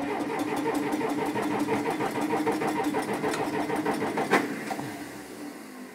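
An engine cranks with a rapid rhythmic churning from a starter motor on a cold day around freezing, then catches with a sharp burst near the end and settles into a lower running rumble, close and fairly loud, with no talking.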